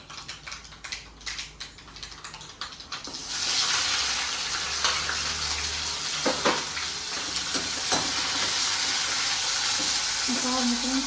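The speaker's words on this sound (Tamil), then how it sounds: "எண்ணெய் போட்டு கடுகு போட்டேன். பிடிச்சி போது வெங்காயம் போடணும்." Mustard seeds and onion frying in hot oil for sambar rice on a home stove: a quiet spell of light crackles and pops, then a loud, steady broadband sizzle with sharp clicks of spattering seeds and occasional stirring scrapes.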